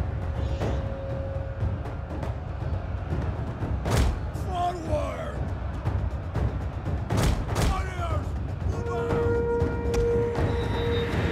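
Cannon fire in the video game Total War Attila, a few sharp booming shots spread across a battle with continuous game sounds and horse noises, while a voice talks throughout.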